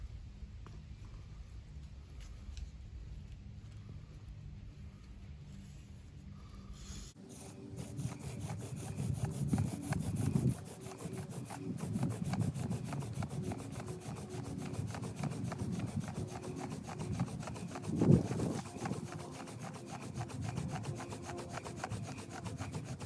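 Sourwood rubs on sourwood in a friction fire-starting attempt, a quiet and fairly steady rhythmic grinding that becomes louder after a short faint stretch and keeps going close to the microphone with no voices.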